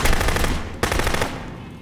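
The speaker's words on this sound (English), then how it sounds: "Brother, these guns sound like trash." Rapid automatic gunfire from a rail shooter video game, a loud continuous burst with a brief break near the middle before firing resumes, then tailing off at the end.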